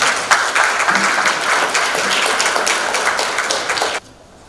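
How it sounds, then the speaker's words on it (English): An audience at a tax and good governance event gives a round of applause, dense and loud for about four seconds before cutting off abruptly to quiet. "Please, a round of applause."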